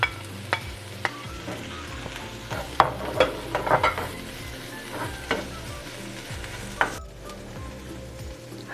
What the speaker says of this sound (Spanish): Ahora agregamos el ajo.